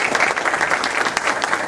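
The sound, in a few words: audience applause for teachers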